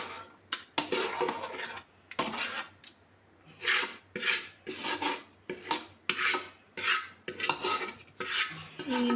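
Mango pickle pieces are mixed with chili powder in a vessel, giving repeated rhythmic rasping and scraping strokes, close and fairly quiet, with brief pauses between bursts.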